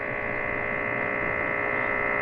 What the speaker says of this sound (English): That's the noise of my power inverter.